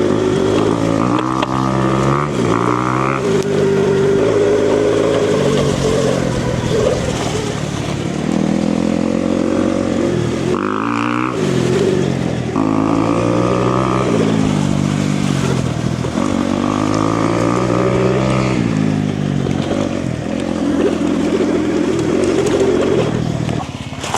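A Rawrr Mantis 72V electric pit bike rides off-road with a loud, close whine of the electric motor that rises and falls in pitch as it accelerates and eases off, with clatter over rough ground throughout.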